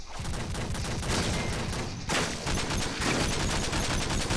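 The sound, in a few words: sniper rifle gunshots in a video game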